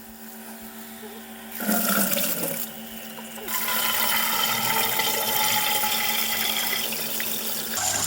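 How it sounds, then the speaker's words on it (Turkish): Salted anchovies rinsed under running water: a steady splashing stream, louder gushes early on, then a continuous close flow of water. "Balıklarımızı yıkadık ve süzmeye bıraktık."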